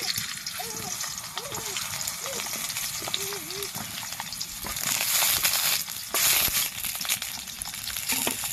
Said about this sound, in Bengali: তেল গরম হয়ে গেছে, এবারে এক এক করে পটলগুলো আমি এর মধ্যে দিয়ে দেব।